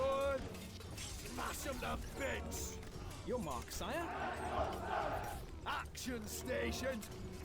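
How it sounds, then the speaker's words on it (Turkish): Soldiers in the strategy game Stronghold Crusader 2 shouting rhythmic battle cries amid combat clatter and crashes, a crowd of voices rising and falling under someone talking over it. "Gördüğünüz gibi asker sesleri ho ho ho şeklinde gelmeye başladı"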